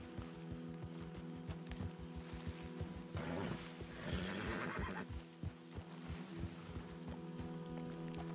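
A horse named Jimothy in the Red Dead Redemption 2 video game, with a steady clip-clop of hooves throughout, broken midway by a loud, close whinnying neigh, over a low background hum.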